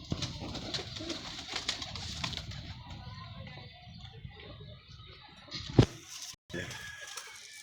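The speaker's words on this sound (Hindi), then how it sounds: "लो जी नीला कबूतर दोस्तों, एक और नीला, ये भी कबूतर है।" Blue pigeons in a loft give soft, low cooing in quiet repeated phrases, with faint background noise and a brief sharp knock near the end.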